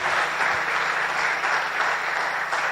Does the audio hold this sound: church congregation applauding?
yes